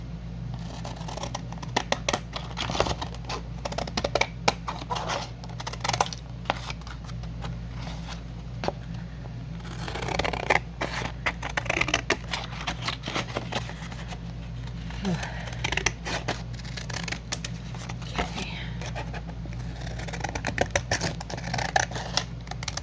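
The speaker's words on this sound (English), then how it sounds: "I'll have to even these out because I did cut this by hand." Scissors snip through handmade paper backgrounds in quick, close, crisp cuts that come in irregular bursts of steady clipping, with a person talking now and then over a quiet room hum.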